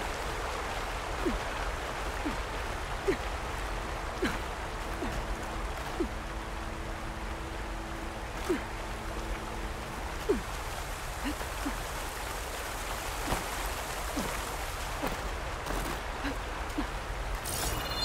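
Waterfall in the video game Horizon Forbidden West, a steady rushing water wash heard from a distance, with scattered small splashes and drips and a faint tonal hum partway through.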